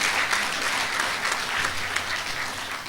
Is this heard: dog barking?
no